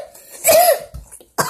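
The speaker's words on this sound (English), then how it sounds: "Sometimes I just have to take a cough." A single sharp cough bursts out close to the mic, followed after a short pause by a brief second throat sound.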